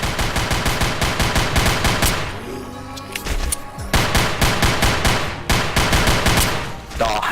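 Rapid automatic gunfire from Zombie Panic! Source rattles in loud, dense bursts separated by brief pauses, with a few single shots and clattering sounds in between.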